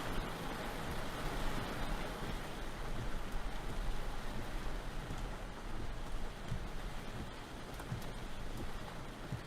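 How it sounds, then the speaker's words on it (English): Rain and hail pour down during a severe storm in eastern South Dakota, a steady dense hiss of drops pattering on surfaces, with no talking. "The rain and hail's clearing out."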